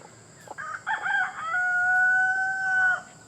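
Young rooster about three months old, crowing with a cracking, uneven voice: a few broken starting notes, then a long, sustained, wavering call, fairly close and alone.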